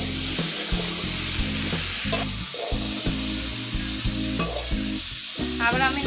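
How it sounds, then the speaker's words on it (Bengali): Turmeric, cumin and green chili sizzle and fry in a pan while being stirred, a steady close hiss broken by repeated scraping strokes of the spoon against the metal; no voices. "পরিমাণ মতন হলুদ, জিরা, কাঁচা লঙ্কা দিয়ে আমি আবার একটু নাড়ি চাড়িয়ে নিচ্ছি।"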